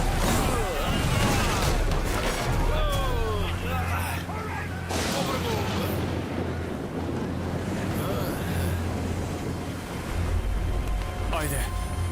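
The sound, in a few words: sea waves in storm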